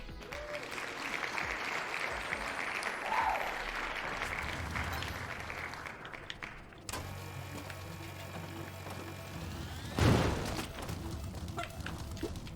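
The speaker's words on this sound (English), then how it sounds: "I love that clap sound effect." A soundboard applause clap effect played during a Spelunky 2 stream, a loud burst of clapping up front amid game mechanism noises and music, with a sharp hit near the end.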